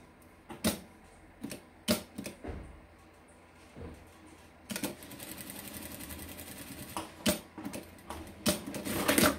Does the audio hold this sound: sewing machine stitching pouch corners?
yes